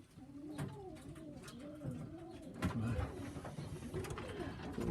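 Pigeons coo repeatedly in a loft, soft rolling calls overlapping close by, with light rustling and background noise.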